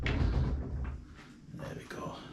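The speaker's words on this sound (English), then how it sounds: "Close your doors." A door closing in an apartment in Elounda, Crete: a short thump of the door shutting at the start, then quieter handling sounds and a second soft knock, with a voice speaking nearby.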